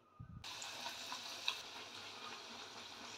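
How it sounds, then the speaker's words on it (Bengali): Green pea kachori fry in hot oil in a kadai, giving a faint, steady sizzling hiss that starts after a brief low thump and carries on evenly. "সবগুলো এইভাবে ভেজে নিচ্ছি"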